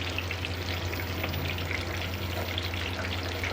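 Moong dal pakoras frying in oil over moderate heat, a dense, steady sizzle with fine crackling bubbles running continuously and close, with no voices.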